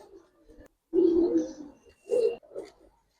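A male pigeon, a giribaz breed kept in a Bangladeshi fancier's collection, gives a few short throaty coos in separate bursts, close and fairly soft against a quiet background.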